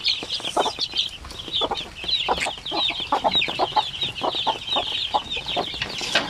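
Several native hens cluck and murmur repeatedly, a busy, continuous chatter of fowl close by with no talking.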